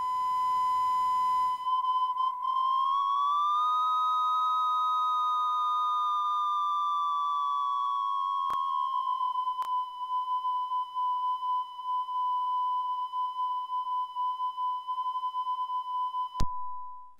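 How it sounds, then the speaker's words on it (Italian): A steady 1000 Hz test tone plays from a cassette in a tiny boombox, a pure sustained beep that wavers slightly in pitch and holds for many seconds with a couple of faint clicks. "questa cassetta che contiene un tono a 1000 Hz"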